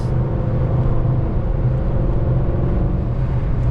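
Car with a cammed 5.7 engine fitted with HHP/BES heads driving, a steady loud low engine drone from inside the cabin without breaks.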